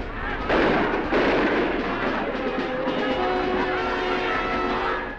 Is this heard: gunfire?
yes